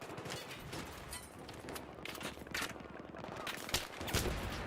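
Faint, steady machine-gun fire in Battlefield 3 on PS3, a quick stuttering patter of shots that runs throughout at a low, somewhat distant level.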